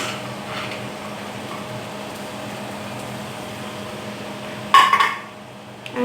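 Peas and capsicum tip into a cooking pan with a sudden clattering burst of metal-on-pan clinks near the end, after several seconds of quiet kitchen hum.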